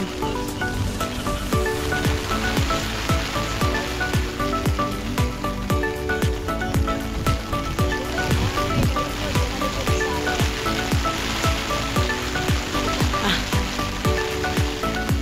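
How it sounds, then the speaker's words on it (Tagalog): Heavy rain falls steadily in Taiwan, a dense continuous hiss and patter that holds throughout. "it's raining hard"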